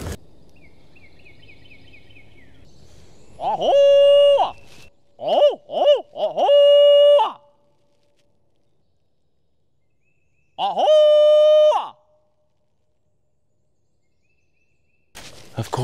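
Wild turkey gobbling outdoors at a spring hunting camp, several loud rattling gobbles in bursts close by, first a run of three then one more after a pause, over a quiet background.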